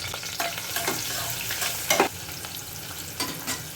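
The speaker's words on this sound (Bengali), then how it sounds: "পেঁয়াজকে একটু ব্যারেস্তা করে নেব পেঁয়াজ ভাজা ভাজা হয়ে গেছে" Onions sizzle and fry in a pan for Bengali village-style chicken, a steady crackling hiss with occasional stirring scrapes and one louder clatter, close and continuous with no talk.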